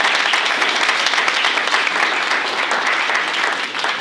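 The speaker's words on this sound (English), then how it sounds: "So a round of applause to all of you for your graciousness." A banquet audience applauds loudly and steadily, many hands clapping in a dense, continuous wash throughout.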